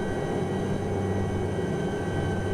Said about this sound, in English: So come to a hover and then gently put the helicopter down.